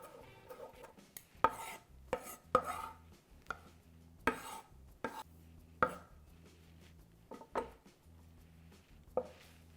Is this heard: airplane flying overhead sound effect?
no